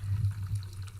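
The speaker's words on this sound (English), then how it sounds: "whenever I put it on the dry soil, water comes out" Water pumped by a moisture-sensor robot onto dry soil, heard as a steady low pump hum with a soft pouring trickle, close and continuous with no talk.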